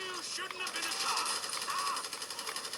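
Gunfire in a mobile shooting game, a rapid rattling stream of shots running continuously beneath the game's tonal effects and music, with a person talking over it.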